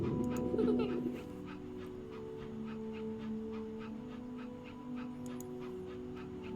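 Dogs whimper and pant softly, with small high whines and quick breaths over a steady hum, and a louder burst of sound at the start.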